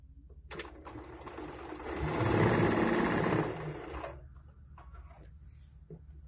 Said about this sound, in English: and then we just sew them together.